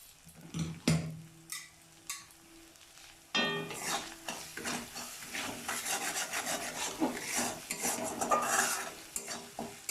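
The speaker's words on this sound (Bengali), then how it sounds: "এবার ভালো করে মশলাটাকে মিশিয়ে নেব আমি।" Masala being stirred and mixed with a spatula in a frying pan for Bengali doi potol, salt just added; scraping strokes and clinks, then steadier rasping and soft sizzle up close, with no talking.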